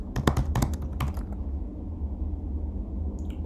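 Quick bursts of key taps on a computer keyboard as city names are typed, clustered in the first second or so, then a low room hum with a few faint clicks at the end.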